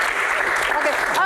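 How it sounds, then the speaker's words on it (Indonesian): Applause fills the room at a talk show, a dense steady clatter of clapping hands with a voice briefly audible near the end. "Oke, tepuk tangan untuk Mbak Tejo."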